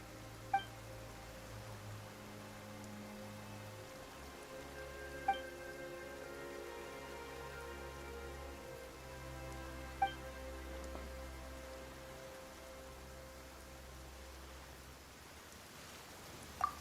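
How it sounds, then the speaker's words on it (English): Steady rain falls close by, a continuous hiss of drops on a surface, with a low rumble under it and a few faint sharp ticks spaced through it; no one speaks. "Why is it raining all of a sudden?"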